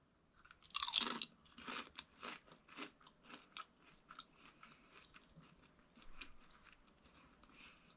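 Close, crisp crunching as someone bites into a crunchy jarred dill pickle, one sharp first bite followed by a rhythmic series of softer chewing crunches, no talk.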